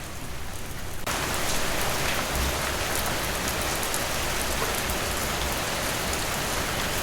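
Heavy rain pours down in a Bengali cartoon, a dense, even hiss that starts suddenly after a brief quieter moment and stays loud and unbroken, with no voices.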